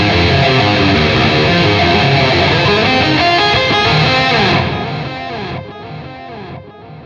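Electric guitar played through the duotone effect of a NU-X MG-30 multi-effects unit, a dense, sustained processed tone that thins out and decays into separate notes near the end, with no talking.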